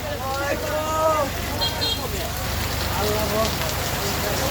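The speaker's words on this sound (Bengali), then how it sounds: "বৃষ্টি হয়েছে, বৃষ্টি ভিজতেছে।" Steady rain falls in Kishoreganj, a constant hiss of drops on surfaces heard throughout while people talk over it nearby.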